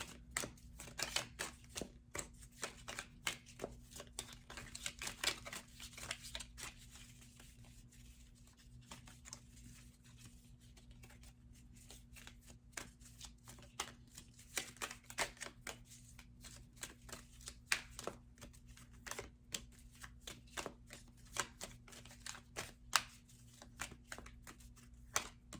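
Tarot cards are shuffled and handled in quiet, repeated bursts of soft riffling and slapping, close and faint over a low steady hum, continuing for a long stretch without speech.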